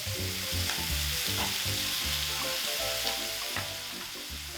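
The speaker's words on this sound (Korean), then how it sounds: "채소 다 넣고 볶아주다가 간장 조금, 청주 조금, 간장 조금 넣고" Vegetables stir-fried with soy sauce and rice wine in a hot pan for gochu japchae give a steady close sizzle, broken up by repeated clattering tosses and scraping throughout.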